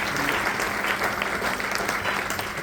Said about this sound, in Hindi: जोरदार ताली एक बार आप लोगों के लिए।